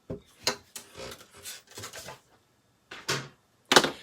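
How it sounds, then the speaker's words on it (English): Simply Scored scoring tool running a stylus along paper for a fun fold card, scored at a quarter inch, giving a series of short dry rubbing scrapes in separate bursts with brief gaps, close and fairly quiet. "we're going to get the Simply Scored scoring tool, and we're going to score this at 1/4 inch"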